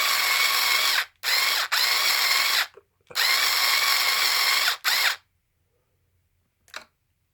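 A power drill drives a screw while a wheelie bar is installed on an E-Revo RC truck: loud whirring bursts in several runs with brief pauses, then it stops and a single faint click follows.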